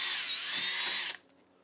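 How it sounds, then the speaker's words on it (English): A power drill whines steadily for about a second while backing out screws from a Dodge Challenger headlight, then cuts off abruptly into near silence. "We're gonna start removing all of these screws"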